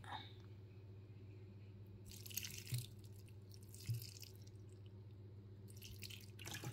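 Vinegar is poured into a dish while cooking, giving faint, short liquid splashes and drips in a couple of bursts over a quiet kitchen hum.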